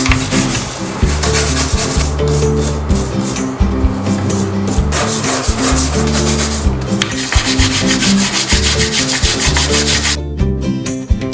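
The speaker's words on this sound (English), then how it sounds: "So I'm going to do some reset, especially in the bathroom. I'm going to give them a good scrub." Vigorous rhythmic scrubbing of a bathroom, close and loud, with steady back-and-forth rubbing strokes continuing throughout.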